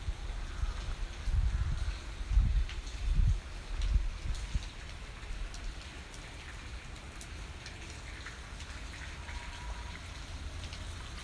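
Steady rain falls outdoors, a continuous close patter on surfaces, with heavier low rumbling gusts in the first few seconds before settling into an even hiss.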